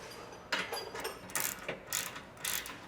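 Ratchet wrench snugging bolts on a Toyota 4Runner skid plate, a few bursts of quick close clicking separated by short pauses, with no talking.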